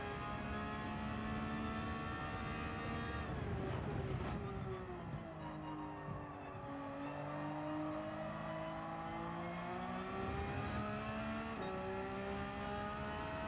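Porsche race car engine in Gran Turismo 7 at the Nürburgring GP, a steady high-pitched whine that rises and falls through gear changes and revs, loud and continuous for the whole stretch with no talking.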